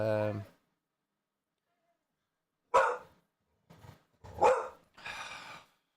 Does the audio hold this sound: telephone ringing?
no